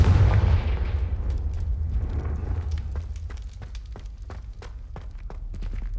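A Confringo fire spell blast in Hogwarts Legacy, a heavy booming explosion that rumbles and fades, followed by scattered crackling debris clicks, loud and close, no talking.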